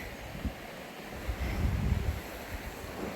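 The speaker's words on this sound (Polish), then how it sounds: "I kolejny wodospadzik, zobaczcie." A small waterfall in the Roztocze nature reserve gives a steady, soft rushing of falling water, with gusts of wind buffeting the microphone and no voices.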